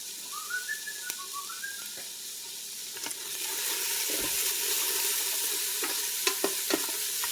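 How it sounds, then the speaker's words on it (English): Soup ingredients get stirred in a deep pot for a creamy Reuben soup, a soft sizzle under scraping spoon strokes, with a brief whistling tone early and a few sharp clinks near the end. "let me stir this around a little bit."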